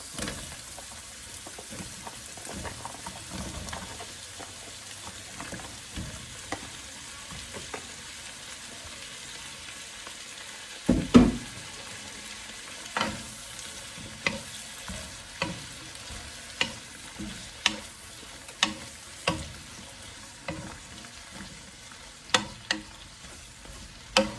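Mixed vegetables stir-frying in a pan give a soft, steady sizzle, joined about halfway through by a series of sharp, evenly spaced clacks and scrapes of a spatula tossing them.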